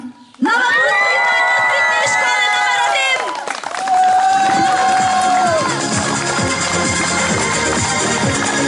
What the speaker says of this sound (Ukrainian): Бурними оплесками вітаємо команду Шон.